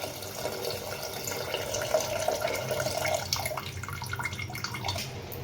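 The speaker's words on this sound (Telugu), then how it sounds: "ఇప్పుడు చింతపండు గుజ్జుని అయితే దీంట్లో పోసుకోవాలి" Tamarind pulp pours into a pot of egg curry in a continuous wet, splashy trickle with faint drips, heard close and fairly soft throughout.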